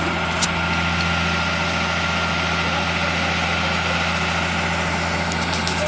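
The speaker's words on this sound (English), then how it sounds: "a really cool machine that we use in construction very often. And that is the concrete boom pump." Steady low rumble of a concrete boom pump truck's heavy diesel engine running at idle on a construction site, constant and loud with a continuous drone and no pauses.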